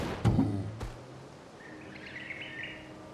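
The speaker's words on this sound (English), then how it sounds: "Oh, is that bird sound in the game?" Bird chirps and calls from the video game Clair Obscur: Expedition 33, a faint, bright twittering trill in the background after two short thumps at the start.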